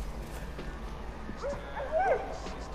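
A dog in the video game Far Cry New Dawn whimpers and yips softly at mid distance over a low ambient game background, with a brief rising whine near the end.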